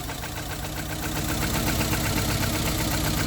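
A car engine idles roughly and shakes with one cylinder's injector switched off, giving a steady, uneven, knocking vibration close up, with no talk.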